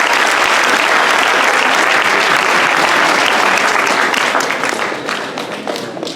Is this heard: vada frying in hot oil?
no